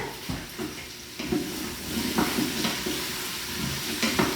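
Chunks of butternut squash and apple stirred together in a pot, with a spoon scraping and clunking in irregular strokes over a soft background hiss of cooking.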